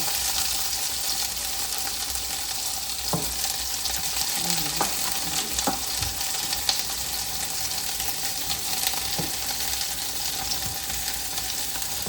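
Onions frying in a pan for Kolkata-style Indo-Chinese cooking give a steady close sizzle throughout, with a few sharp clinks and scrapes of a utensil.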